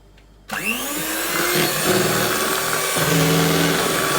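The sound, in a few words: mixer mixing homemade ube ice cream base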